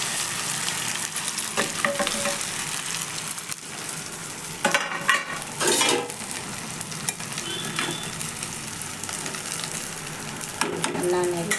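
Tomato rice stirred in a hot frying pan, with a continuous close sizzle and repeated scraping of the spoon against the pan throughout, loud and without speech.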